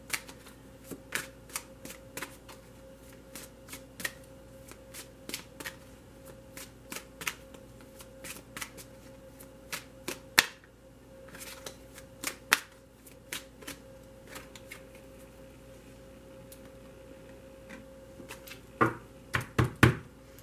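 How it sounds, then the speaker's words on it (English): Tarot cards riffled and shuffled over and over in quick, crisp bursts, close up and fairly quiet, with no voices. "If it flips over while shuffling, you'll get to see it."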